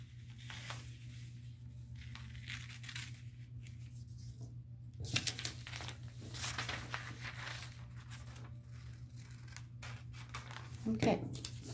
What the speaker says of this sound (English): I'm going to cut those off.